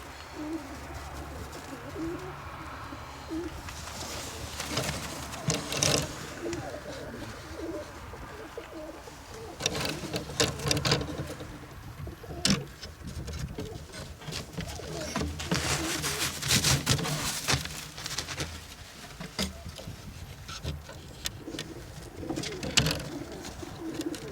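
White-winged Budapest highflyer pigeons coo repeatedly nearby, soft throaty calls rising and falling over a busy background of rustling, fluttering and scattered bird noise.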